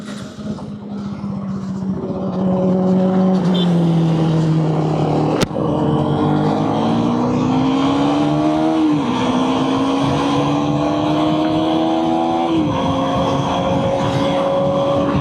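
A Kawasaki ZX10R sportbike running hot on a fast road ride revs loud and close, its engine note climbing steadily through the gears with several distinct shifts and a brief sharp click midway, and no talk.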